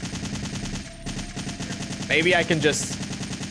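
Fast, steady automatic gunfire in a Resident Evil game rattles throughout, with someone talking briefly over it midway.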